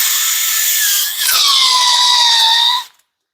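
A cordless drill driver fitted with a Parkside tile bit drills into glass with a high, steady motor whine. The pitch dips briefly, then holds before the motor stops abruptly, close and loud.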